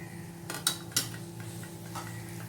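A spoon stirring dosa masala filling dressed with lemon juice in a metal pot, with a couple of sharp clinks and soft scraping against the rim, close but quiet.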